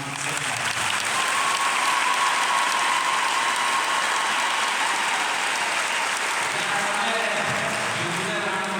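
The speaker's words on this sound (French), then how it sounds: "Et je voudrais que toute l'Église applaudisse fortement cette femme." A church congregation at a Mass of thanksgiving in a Saint Francis of Assisi parish claps loudly and steadily, a dense, sustained roar of many hands filling the room from start to finish.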